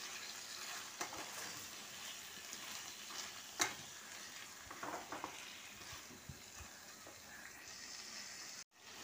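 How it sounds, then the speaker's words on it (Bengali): Chicken frying in a pan is stirred while a steady sizzle fills the background and occasional scrapes and taps of the spoon sound on top, close and continuous, with no talking. "দিয়ে আবার ভালো করে নাড়বো।"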